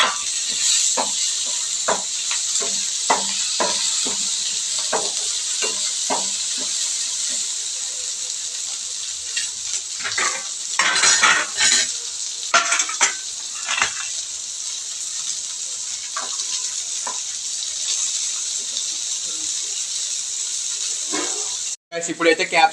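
Capsicum fries with tomatoes in a pan, a long, steady hissing sizzle up close, punctuated by clusters of sharp spatters and stirring scrapes, with a sudden cutoff near the end.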